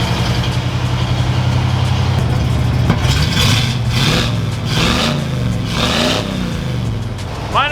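A 1986 Ford F250 pickup with a custom exhaust revs hard several times in a row, a loud throaty exhaust rising and falling close by, with a brief squeal near the end.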